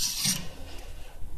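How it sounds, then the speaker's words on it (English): A wire brush scrubs the brake hub of a VW Polo, producing a close, harsh rasping burst at the start, followed by quieter scraping and rubbing. "I just cleaned up here the wire brush"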